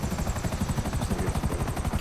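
Helicopter in GTA 5 Online flying steadily, a loud continuous rotor chop with a fast regular beat and engine whine throughout, no talking.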